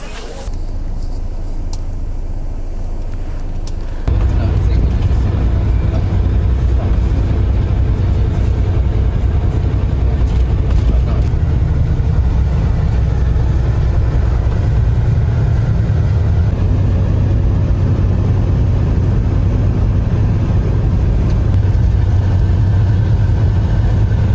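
A bus engine idles, then kicks up to a steady, loud low rumble that runs unbroken for the rest of the ride, heard from inside the bus with faint voices in the background.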